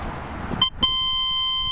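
A C.Scope CS4MX-i metal detector in pinpoint mode emits a clear, steady electronic tone that starts after a short break and holds evenly to the end, with no talking.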